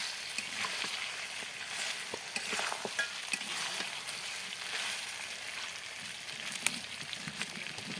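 Goat meat frying and being stirred in oil in a pot over a clay stove, a steady close sizzle with scattered crackles and scraping stirs throughout, no talking.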